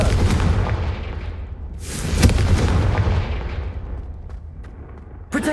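Confringo fire spell blasts from a wand in the Hogwarts Legacy video game, a loud booming burst with a rumbling decay that fades over several seconds, followed by a sharp second impact at the end.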